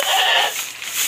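Pregnant goats bleat at feeding time on a farm, giving one loud, close, wavering bleat that fades briefly and then swells again.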